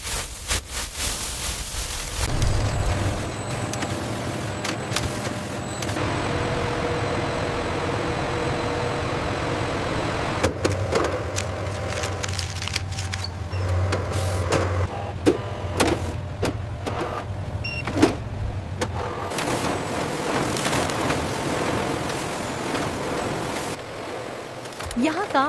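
Steady industrial machinery drones through a cigarette factory under high ceilings, a constant low hum and hiss with scattered clicks and clatters, while a voice talks faintly over parts of it.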